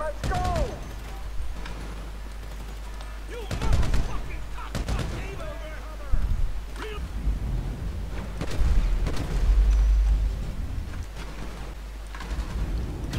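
Gunfire in GTA 5 Winter Edition, with several sharp bursts of shots, some in quick rapid runs, spread irregularly across the scene. The shots are loud and close, set over a low rumbling background, and someone talks at times between them.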